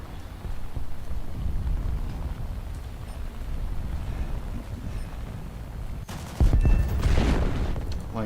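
Aircraft guns firing in the flight combat game War Thunder, a dense rolling rumble of rapid shots under steady engine roar, growing sharper and louder near the end.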